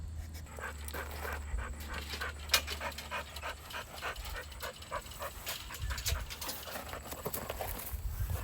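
Dog panting and moving around nearby, an energetic newly adopted dog, with rhythmic breathy pants and some scrabbling steps, fairly close and steady, no talk.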